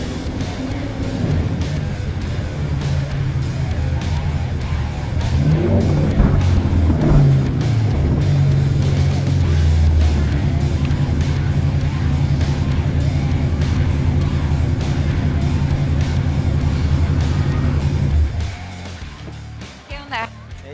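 A car drives up and arrives, its engine a steady loud rumble lasting most of the clip that swells midway and then cuts off near the end, followed by a brief quieter moment.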